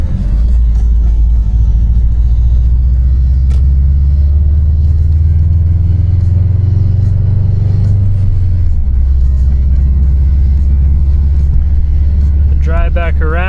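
A 2018 Subaru STI fitted with a pump drives a test loop through an industrial area, its engine a steady loud low rumble that swells as it accelerates, then settles; a voice speaks over it briefly near the end.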